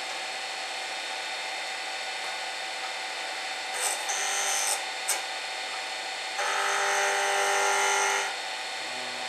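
A woodturning lathe hums steadily while a turning tool cuts the spinning wood, with short scraping bursts early on and a longer, louder rasping cut near the end.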